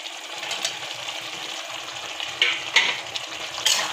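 Pre-boiled elephant foot yam tipped into a pan of frying chicken, a close steady sizzle with a few sharp clattering stir strokes toward the end, without speech.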